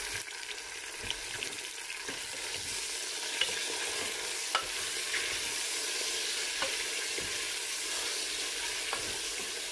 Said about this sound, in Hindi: इसे 5 मिनट तक हम भूनेंगे।